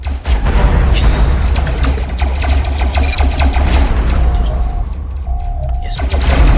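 Plasma cannons fire in the robot-battle game Robocraft in a loud, continuous fusillade of booming shots and mechanical clatter, with brief electronic tones breaking through near the end.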